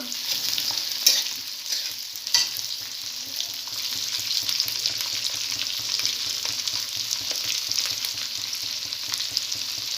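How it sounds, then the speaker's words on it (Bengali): Chopped capsicum and onion fry in hot oil for chilli chicken, giving a loud, continuous sizzle with repeated stirring scrapes throughout. "ক্যাপসিকাম আর পেঁয়াজ যেগুলো তোমাদের দেখিয়েছিলাম কেটে কেটে রেখেছিল, এখন সেটা তেলে ছাড়লো আমার মা।"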